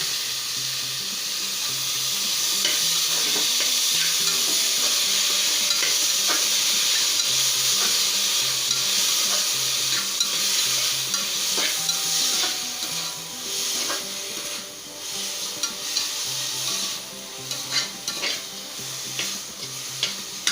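Tomatoes fry with sautéed onions, mustard seeds and urad dal for a quick tomato kuzhambu, giving a continuous close sizzle and hiss with repeated light stirring scrapes throughout.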